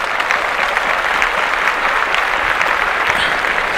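Steady, dense applause from a crowd, loud and continuous for a few seconds with no talking over it.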